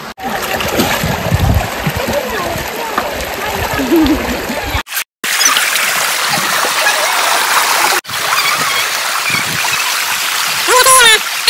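Cold mountain stream water rushes around a small dam of stones in the Biring Khola river in Nepal, a loud, close, continuous flow with splashing, broken by two brief cuts and with voices mixed in.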